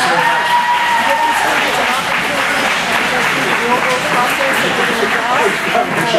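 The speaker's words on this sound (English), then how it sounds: "would you please at least applaud the ones that are here for taking the time out for what they've done today?" An audience applauds the merchants at an event: dense, continuous clapping from a crowd, loud and close, sustained for several seconds.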